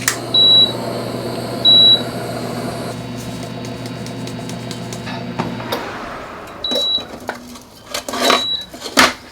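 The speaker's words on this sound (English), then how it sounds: "Wish I could rip the beeper out of this thing." A kitchen appliance beeper sounds two loud, short, high beeps over a steady hum, then a few fainter beeps follow amid light clattering of dishes and cutlery.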